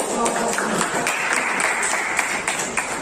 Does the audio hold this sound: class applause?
yes